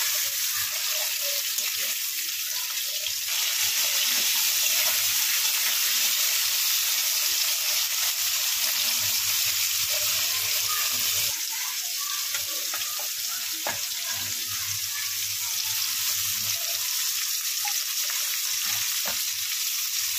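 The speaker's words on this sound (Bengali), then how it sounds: "ভালো করে ভেজে নিচ্ছি।" Mixed vegetables with potato frying in oil in a pan, giving a steady, close sizzle throughout with faint stirring clinks and no talk.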